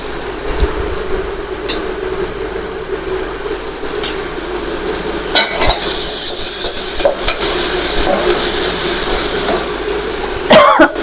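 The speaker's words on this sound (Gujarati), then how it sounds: "ચટણી લસણ ને બધું પાકી જાય સારી રીતે ત્યાં સુધી આપણે તેને સાંતળાવા દઈશું" Garlic chutney sautés in a pan with a close, steady sizzle, punctuated by sharp clacks and scrapes of stirring and a loud clatter near the end.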